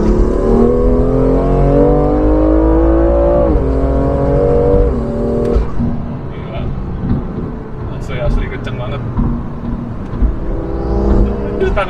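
A BMW M2 Competition, 636 hp, revving hard and accelerating in Sport Plus mode, its engine note climbing through gears with a shift break, then settling into a lower roar while someone talks over it from inside the car.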